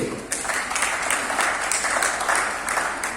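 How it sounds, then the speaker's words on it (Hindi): An audience at a Hindi comic poetry gathering (kavi sammelan) breaks into loud, continuous applause, many hands clapping together in a dense wash from start to end. "एक बार आप मेरे जोरदार ताली बजा दीजिए"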